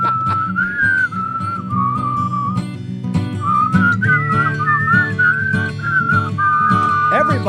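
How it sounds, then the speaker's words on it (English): Several people whistle a song together, a bright melodic tune with wavering pitch carried over a background of music or room noise, close and fairly loud. "Yeah, we'll start whistling."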